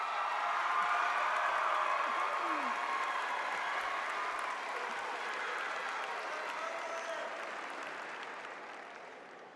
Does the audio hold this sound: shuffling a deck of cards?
no